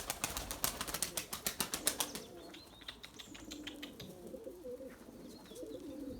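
Pigeons take off and fly past nearby, a fast, loud burst of rhythmic wing claps for about two seconds, then softer flapping and faint cooing as the birds move away.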